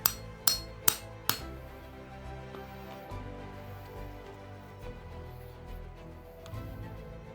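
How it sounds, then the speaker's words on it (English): A framing hammer striking a punch through scrap leather, four sharp loud blows in quick succession at the start, then a quieter stretch with faint handling noise and one softer knock near the end. "I'm using my framing hammer"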